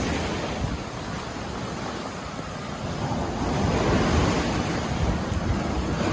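Strong ocean surf at Boracay beach forms a loud, continuous roar of breaking waves mixed with wind buffeting the microphone, swelling slightly toward the middle.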